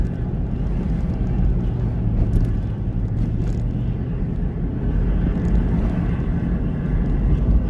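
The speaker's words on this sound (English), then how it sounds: "we're moving a little bit slower with this truck" Steady, loud low rumble of a truck driving at night while hauling a trailer loaded with 18 giant hay bales, engine and road noise continuous and unbroken from inside the cab.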